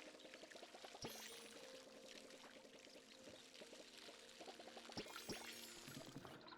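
Water pours from a watering can in the cozy video game Palia: a steady, close splashing stream runs through the whole stretch, with faint game chimes and plinks layered over it.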